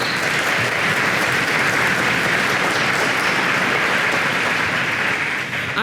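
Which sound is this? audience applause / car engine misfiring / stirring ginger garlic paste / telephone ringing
audience applause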